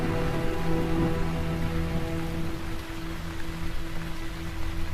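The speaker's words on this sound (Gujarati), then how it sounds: "ધીમો ધીમો ઝરમર વરસાદ પડતો હતો" Steady soft rain falls continuously, a gentle drizzling hiss with a low sustained hum underneath and no voices.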